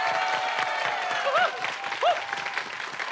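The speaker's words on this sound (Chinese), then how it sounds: "我们就把掌声送给黄义豪" Applause from a studio audience on a Taiwanese variety show for a guest performer, moderate clapping with a few faint whistle-like tones over it, not very loud.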